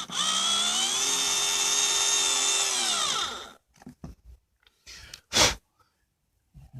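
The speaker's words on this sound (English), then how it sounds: "I'm going to try to drill this in" A small 6-volt power drill whirs loudly and steadily for several seconds drilling into laminate flooring in a campervan, then stops, followed by a few scattered knocks and rustles.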